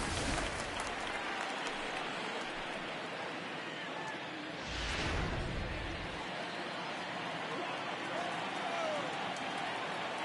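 Crowd noise at a Mets at Marlins baseball game rises as fans stand for a full count, a broad roar that swells briefly near the middle, heard beneath continuous play-by-play commentary.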